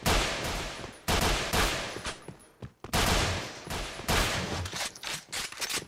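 Bursts of automatic gunfire from the video game Point Blank, played at an international esports championship group stage: loud, sustained volleys broken by short pauses, with no talk over them.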